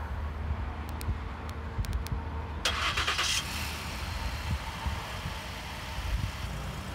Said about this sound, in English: Anthony, this vehicle also offers a remote start.